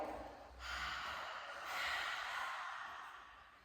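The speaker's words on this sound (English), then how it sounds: "So you take a deep breath in through the nose. As you exhale" Slow, deep nasal inhale followed by a long, airy exhale during a hatha yoga session, close and soft with no talk over it.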